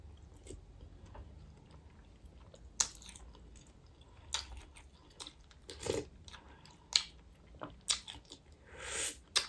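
Someone eats a spicy cuanki soup with crunchy bakso meatballs, with close, sharp bites and wet chewing and slurping in irregular bursts over a quiet room, with no talk.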